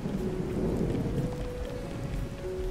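Rain and thunder from the video game A Hat in Time form a dense, continuous hiss of falling rain over a low rumbling roll of thunder, steady throughout with no talking.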